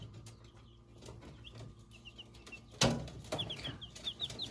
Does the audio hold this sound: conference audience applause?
no